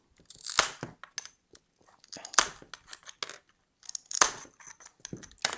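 Mosaic nippers snap through Johnson ceramic tile while shaping a circle, giving three sharp, close cracking bursts about two seconds apart, each with a brief crunchy tail, amid quiet pauses.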